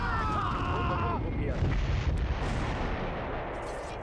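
Rocket fire and explosions in the Close Combat III World War II battle at Kharkov: a dense, continuous roar of blasts and rumbling booms, loud and close, with a voice talking over the opening moments.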